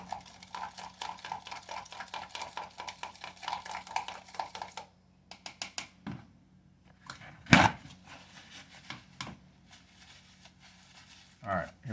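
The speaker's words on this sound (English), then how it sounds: "I actually kind of stir it up first. The butter and the sugar that we just added." A spoon stirs butter and sugar together for icing, giving quick rhythmic scraping and clinking against the bowl for several seconds, then slower scattered knocks and scrapes, with some talking.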